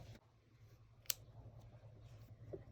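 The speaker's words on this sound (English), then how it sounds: "cut my yarn" Scissors snipping crochet yarn: one sharp close snip in an otherwise quiet moment, with a faint softer sound shortly after.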